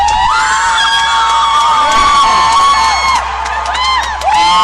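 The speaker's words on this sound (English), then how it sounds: "They can hear the crowd." A crowd cheers, whoops and shouts with excitement at a puzzle championship pairs final in Valladolid, a loud, sustained roar of voices with high cries rising and falling throughout.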